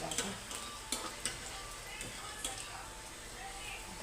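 Spinach pakoras are turned and stirred in a frying pan, giving a soft, steady sizzle broken by a few sharp scraping clicks of the spatula against the metal.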